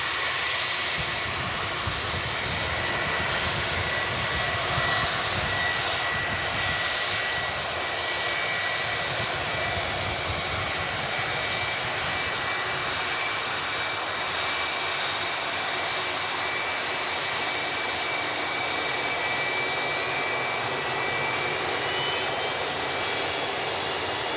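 A Boeing 757 powered by Rolls-Royce RB211 jet engines at Manchester Airport produces a sustained, loud roar with a faint high whine running through it, steady for the whole stretch with no voices.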